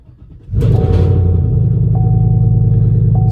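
A Chevrolet Silverado truck engine catches after a brief crank, jumping from near silence into a loud, steady close-up idle rumble that holds to the end.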